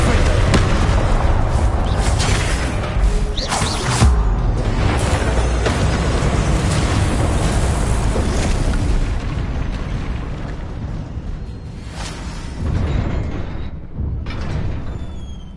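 Spell casting and fiery Confringo blasts in Hogwarts Legacy, with loud, dense booming explosions and crackling bursts that fill the sound almost continuously, repeated impacts standing out at intervals and a voice calling out spells over the din.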